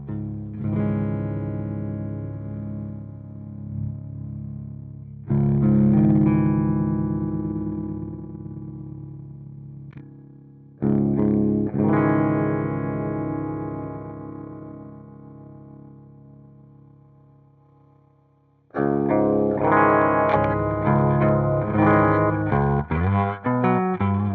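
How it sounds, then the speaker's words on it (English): Clean electric guitar chords through a Fender-style clean amp model in Softube Amp Room ring out and decay, played in several separate strums with pauses between, ending with a busier passage of quicker notes. "I want to check out the clean amp model."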